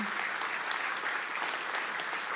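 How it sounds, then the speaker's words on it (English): An audience at the DrupalCon opening ceremony applauding the conference sponsors, a dense steady wash of clapping from a large crowd, even and continuous throughout. "So we are going to make an applause for them."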